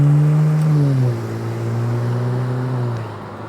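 Loud, close engine drone of a car at a road intersection, its pitch falling as the vehicle slows, then holding a steady low idle hum before fading slightly.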